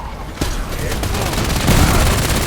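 Automatic machine gun fire in the online shooter Warface, a dense, continuous rattle of rapid shots that swells louder toward the end, with heavy low booms mixed through the battle noise.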